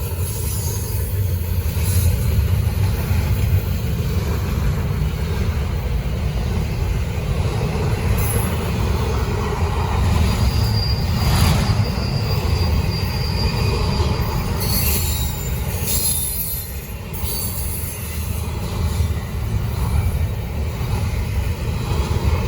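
Norfolk Southern freight train 241 rolling southbound through Gaffney, South Carolina, close and loud, with wheels squealing and a continuous rumble of rail cars passing the whole time.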